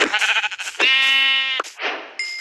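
Sheep bleating in the video game Minecraft, several wavering, nasal bleats in quick succession, loud and close, with one long sustained call in the middle.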